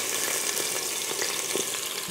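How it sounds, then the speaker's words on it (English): Ginger and garlic sizzle in a Pressure King Pro, a steady close-up hiss of frying with faint crackles and a few soft stirring scrapes, no voices. "There's a nice sizzle."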